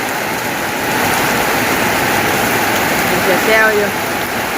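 Heavy rain pouring down outdoors, a loud continuous hiss with a person speaking over it and a short rise in intensity near the end.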